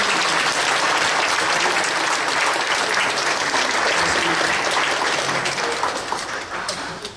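A standing congregation at a church's 70th anniversary thanksgiving service gives a loud, dense round of applause that holds steady and then tapers off toward the end.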